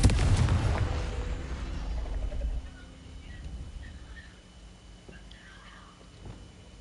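A Confringo fire spell explodes in a video game with a heavy, close boom at the start that rolls into a fading rumble, leaving quieter game ambience and a faint whispery voice.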